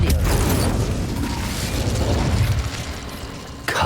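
A fire spell cast in the video game Hogwarts Legacy, a loud sustained fiery rumble and whoosh lasting several seconds that gradually fades, followed by a sharp burst near the end.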